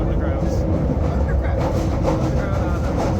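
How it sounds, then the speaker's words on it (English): A London Underground tube train runs with a steady, loud rumble and faint clickety-clack of wheels on track, continuous throughout with some background voices. "I also took the tube dressed up as Underground Ernie."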